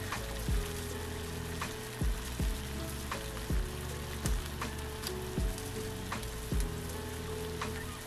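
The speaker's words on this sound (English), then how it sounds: "now that the water is boiling" Water bubbling and roiling at a boil in a pot for Navajo tea, with a steady hiss and periodic low thumps and pops recurring roughly every second.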